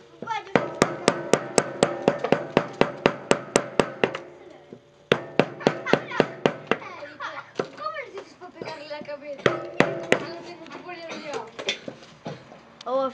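A hand-carved sculpture is struck with a rapid series of sharp, close hammer or mallet taps, coming in regular bursts with brief breaks, and people talk quietly underneath.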